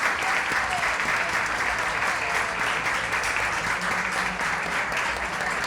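An audience gives sustained, even applause at a talk about shepherding in El Ballestero, a dense wash of clapping at steady loudness throughout with no voices standing out.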